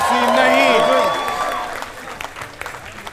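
Studio audience applause on a comedy show, a crowd clapping and cheering while voices and music play over it at first, then continuing alone at a lower level.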